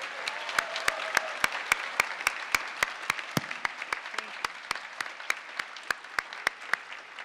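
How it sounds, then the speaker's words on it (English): A commencement crowd applauds steadily, a dense wash of clapping that holds at an even level throughout, marked by sharp, regular clicks. "Let's give them a round of applause."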